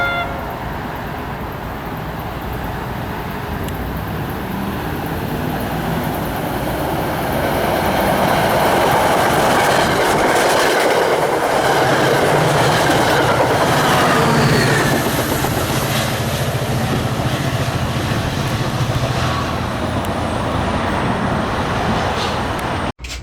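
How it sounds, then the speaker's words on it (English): An empty NJ Transit commuter train deadheads back toward Hoboken past the small Teterboro station in Bergen County. It rumbles loudly and steadily, swelling in the middle as the cars roll by close at hand, with no talk over it. "The train we were just on is now deadheading back to Hoboken."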